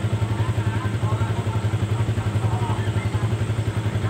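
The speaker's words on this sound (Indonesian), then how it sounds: "mesin saya nyalakan" Close, pulsing idle of a Yamaha Vixion motorcycle engine with a charging fault that causes occasional stumbling, a steady rapid chug with light mechanical clatter.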